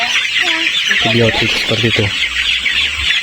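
Chickens cluck continuously inside a poultry house, a dense steady flock chatter, with someone speaking briefly over it.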